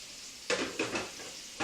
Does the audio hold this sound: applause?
no